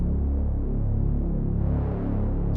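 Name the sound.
dark filtered synthesizer sound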